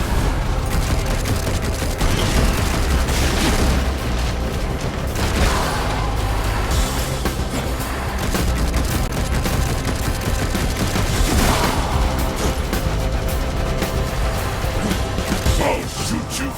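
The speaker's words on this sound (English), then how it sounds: "I'm trying to shoot you!" Rapid gunfire bursts and explosive booms fill the scene in the Darksiders Genesis video game, a dense continuous barrage layered with impacts and crashes, with voices speaking over the combat.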